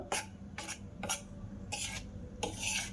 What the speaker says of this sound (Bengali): এবার আমি এগুলো সব মিশিয়ে নেব, শুকনো উপকরণগুলো